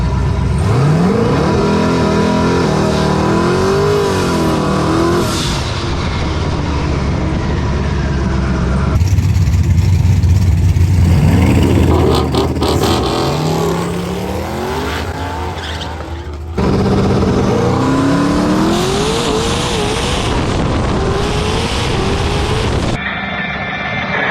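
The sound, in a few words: drag race car making a pass on radials at drag strip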